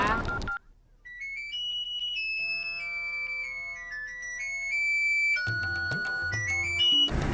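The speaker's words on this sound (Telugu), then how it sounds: "ఫోన్ ఎత్తరా" A mobile phone plays a tonal electronic ringtone melody, clear and sustained for several seconds, with busier musical or scene sounds cutting in near the start and end.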